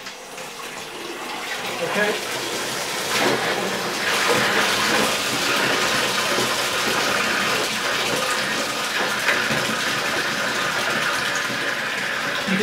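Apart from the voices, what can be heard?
water and air draining from a pressure tester's bypass valve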